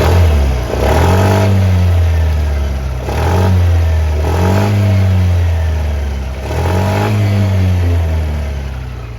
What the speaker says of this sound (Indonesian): Inilah tampilan Suzuki Brookman 125 cc. Dan suaranya seperti apa?